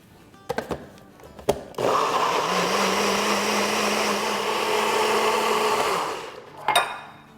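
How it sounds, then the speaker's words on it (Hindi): A blender whirs loudly and steadily for several seconds as it purées a mango shake with sugar, starting abruptly after a few knocks and clicks and cutting off with a short rattle at the end. "और इसको हम अच्छे से ब्लेंड कर लेंगे"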